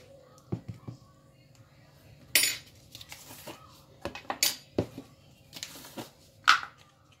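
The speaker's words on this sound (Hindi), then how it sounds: "इसके अंदर मैं एक बड़ी स्पून जो है काली मिर्च का पाउडर मिक्स करूँगी" A large spoon stirs black pepper powder into a marinade, giving scattered light clinks and taps against the bowl with quiet gaps between them and soft background noise.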